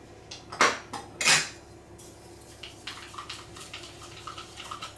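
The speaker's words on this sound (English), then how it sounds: "I'm going to stir that together." Garlic being stirred into a dip in a bowl: two loud clanks of a utensil against the dish, then a run of lighter, quicker scraping taps, close and without talk.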